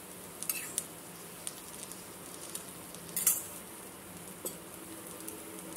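Batter dosa cooking with a little oil on a hot pan, a faint low sizzle close by, dotted with a few soft clicks and a brief scraping burst of the utensil, with no talking.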